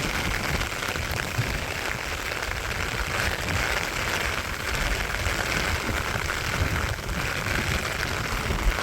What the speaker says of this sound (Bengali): অনেক সুন্দর বৃষ্টি হইতেছে ঝুমঝুম ঝুমঝুম